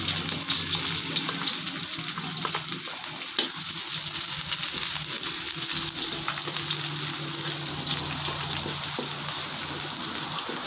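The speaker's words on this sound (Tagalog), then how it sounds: "Magigisa na po ako ng bawang." Garlic and onion sautéing in a pan: a steady, bright sizzle and crackle running throughout at close range, with a low hum beneath it and no talking.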